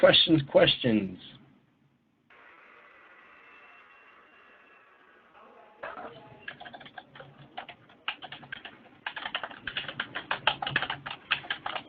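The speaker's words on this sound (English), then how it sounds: "Well, I am typing the link." A voice speaks briefly, then after a pause rapid clicking of keys on a keyboard starts up, close and continuous in uneven bursts.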